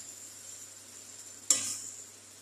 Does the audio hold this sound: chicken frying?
yes